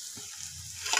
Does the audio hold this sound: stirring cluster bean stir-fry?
yes